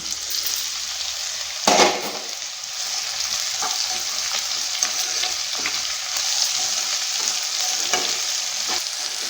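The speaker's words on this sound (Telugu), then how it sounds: "ఒకసారి మొత్తం ఈ విధంగా కలిపేసుకుని ఒక 5 నిమిషాల పాటు ఫ్రై చేసుకున్నాము" Pieces of broad bean stirred into frying onions in a pan: a continuous close sizzle broken by a loud scrape of a spatula early on, then softer stirring clicks, no voices.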